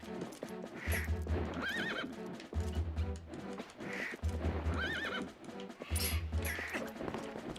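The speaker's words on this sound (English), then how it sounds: "If you hold R, you can dismount the Pona faster. He just leans forward then." A horse in Zelda: Twilight Princess neighs repeatedly over rhythmic clip-clopping hooves, loud and close, with regular bursts of whinnying between trotting passages.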